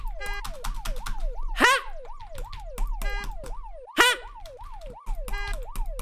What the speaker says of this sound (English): Oh, I got a siren! Siren!